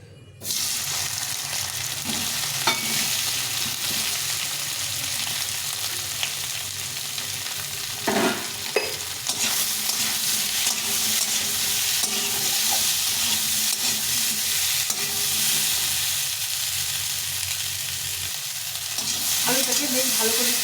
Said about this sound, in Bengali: এখন সর্ষের তেলে রান্নাটা করব তেলটা গরম হয়ে গেছে এখন আলুগুলো একটু ভেজে দেবো